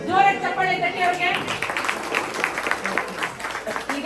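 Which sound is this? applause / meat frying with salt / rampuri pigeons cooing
applause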